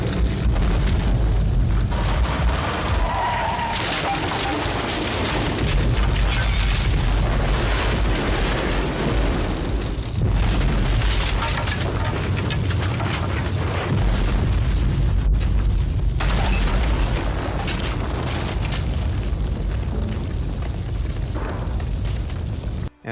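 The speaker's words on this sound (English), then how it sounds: "The Greys are wiped out in a fiery explosion." A sustained fiery explosion at a border gate in Terminus (1987), a dense, roaring blast of rumbling booms and crackling fire that fills over twenty seconds without any speech.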